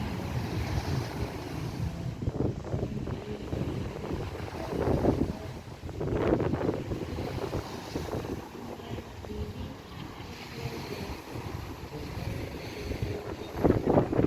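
Sea breeze buffeting the microphone on Jomtien Beach at night, a constant low rumble with gusty swells and faint surf beneath, steady and close throughout.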